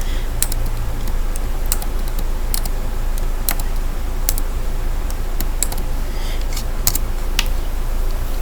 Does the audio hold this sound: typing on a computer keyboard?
yes